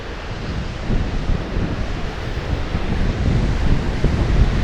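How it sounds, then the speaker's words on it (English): Strong wind buffets the microphone with a low rumbling roar, while surf washes steadily in the background. "It's a bit windy"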